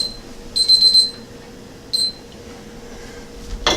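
A kitchen timer rings while eggs boil on the stove. It gives two short bursts of bright ringing, the first longer than the second, over a steady background hiss, followed by a faint click.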